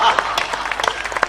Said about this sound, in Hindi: मंच भी ताली बजाए